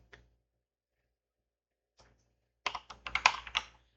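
Typing on a computer keyboard, two isolated faint keystrokes followed by a quick close burst of several clacking key presses.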